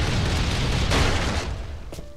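Explosions in the survival video game Last Island of Survival, a loud continuous rumbling blast with a fresh burst near the end, dense and booming throughout.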